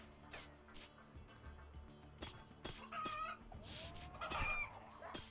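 Chicken-cat hybrid creature in the game Rimworld clucks in short bursts, with several quick squawks and cackling calls mixed among soft background tones, fairly quiet overall.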